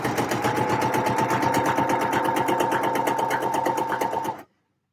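A sewing machine stitches fabric at a fast, even rhythm, its close mechanical chatter running continuously for about four seconds before stopping abruptly.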